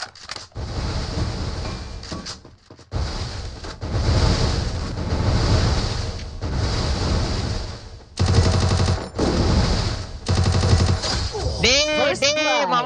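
Gunfire in the mobile battle game Garena Free Fire during a one-versus-four room match: dense bursts of shots over a steady noisy game background, with a brief pause early on and a sweeping game effect at the end.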